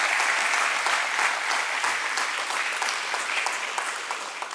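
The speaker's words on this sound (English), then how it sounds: "Let's give a round of applause for this entire team." A crowd applauding the Burger King team at a stock exchange listing ceremony, sustained loud clapping from many hands that tapers slightly toward the end.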